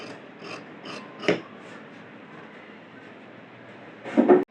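Scissors cut nighty fabric at the shoulder: a few quick, soft snips come close together, then a quiet gap, then a louder crunchy burst of cutting.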